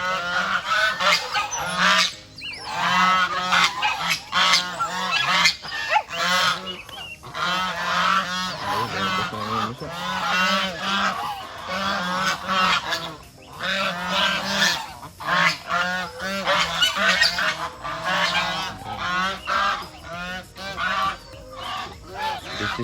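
Geese at a goose market honking loudly and almost continuously, many overlapping nasal calls close by with a busy crowded sound.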